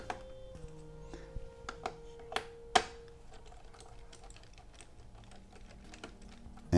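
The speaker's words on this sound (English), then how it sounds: "So we're gonna take a Phillips screwdriver and unscrew those screws." A Phillips screwdriver turns out the keyboard screws of an HP Envy DV4 laptop, giving a quiet series of small ticks and clicks in a close, hushed room, with a brief louder tap near the end.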